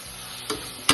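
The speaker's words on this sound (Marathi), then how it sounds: "हे मसाले आणि ह्या भाज्या अजून 1 मिनिट मी परतून घेतली" Vegetables and dry spices stirred and sautéing in oil over a low flame, a soft steady sizzle broken by two brief scraping stirs near the end.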